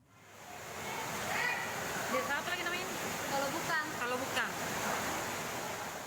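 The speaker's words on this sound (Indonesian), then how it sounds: "Derasnya air langsung masuk ke rumah warga yang berada di bantaran sungai." Floodwater from a river overflowing after heavy rain in Sidrap Regency rushes as a loud, constant, close roar. Faint voices rise briefly over the torrent.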